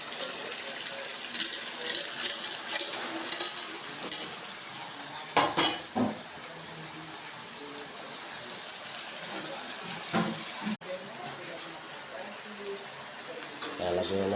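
A spatula clinks and scrapes against a pan while black beans and bitter gourd are sautéed, the clatter busy at first and easing off, with a voice speaking over it.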